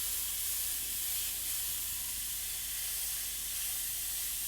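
Airbrush spraying paint in a continuous soft, even hiss, steady and fairly quiet close to the mic, laying flame licks onto a skull mural.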